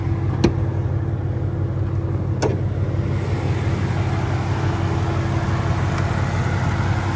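A 2012 Ford Mustang GT with its 5.0-litre V8 runs at a steady, unchanging idle, a low constant drone that holds for the whole stretch with no talk over it.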